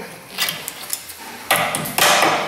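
A socket is hammered onto a ball joint cotter pin on a Ford Explorer Sport Trac, giving several metallic strikes that grow louder toward the end, close by and with no talk.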